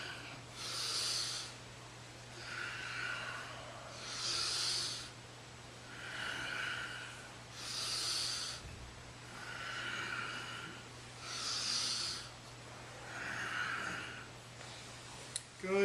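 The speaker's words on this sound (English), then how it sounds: "Good, powerful breaths." Forceful, hissing exhalations during a yoga breathing sequence, about seven evenly spaced breaths roughly every two seconds, close and fairly loud over a steady low hum.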